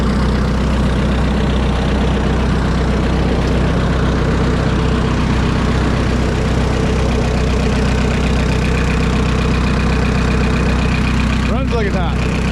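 A 1950 Minneapolis-Moline UTS tractor engine needing carburetor cleaning runs steadily at idle with a deep, continuous rumble, loud and close, with a brief squeaky sound near the end.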